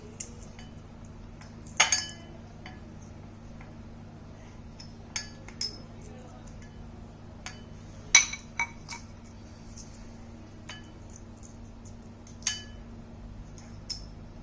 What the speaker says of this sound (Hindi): मैं कुछ कॉइन्स लूंगी, अराउंड 10 कॉइन्स, और मैं यहाँ पे डालूंगी